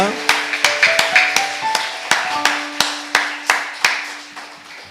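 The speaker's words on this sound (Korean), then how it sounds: "자, 박수 한번 해주시기 바랍니다." A church congregation claps together in a steady, moderately paced round of sharp, close hand claps, with a sustained organ or keyboard tone held underneath.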